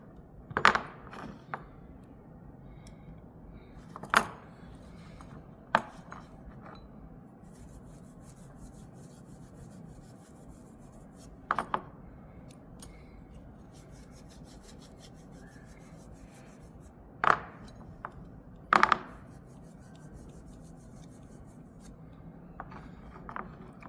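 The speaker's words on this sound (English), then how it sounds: "I'm going to use a sandpaper or emery cloth, and we're going to clean all the joints properly" Sandpaper or emery cloth rubs over copper pipe joints being cleaned before brazing, faint scratchy scrubbing broken by several sharp metallic clinks and knocks, close and quiet, with no talking.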